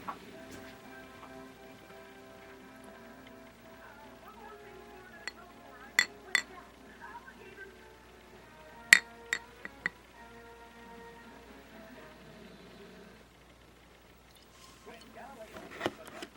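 A half-frozen beer glass clinks several times as it is handled, sharp bright taps scattered between quieter stretches of background sound.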